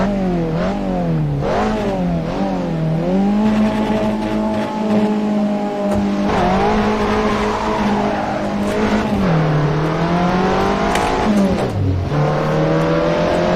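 A loud racing car engine in the racing game Assetto Corsa roars continuously, its pitch climbing and dropping as it revs through gear changes, with occasional tire noise.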